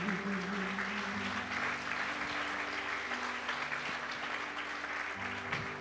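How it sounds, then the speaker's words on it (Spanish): A church congregation applauds together, a steady dense wash of clapping that holds for several seconds with a low sustained tone underneath. "¿Por qué no le da un aplauso al Señor?"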